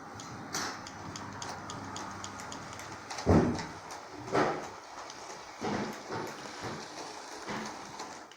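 A Lego toy train runs along its track with steady rhythmic ticking and clicking, soft and close, broken by a few louder knocks and rattles.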